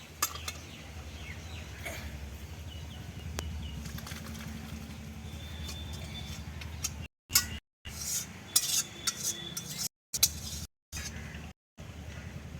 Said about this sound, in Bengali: এবার আমি তরকারিটা ঢেলে নেব